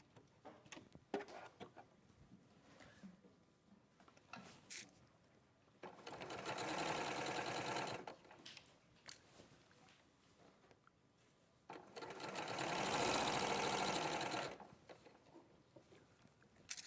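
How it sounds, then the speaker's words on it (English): A sewing machine stitches fabric in two steady, fairly quiet runs of rapid whirring, each about two to three seconds, with soft handling and rustling sounds between them in a quiet room. "I'm just going to sew that now"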